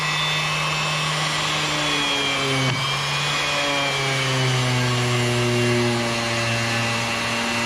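A power sander grinds across live edge wood for a picture frame build, a loud, close, continuous motor whine with shifting pitch and no talking.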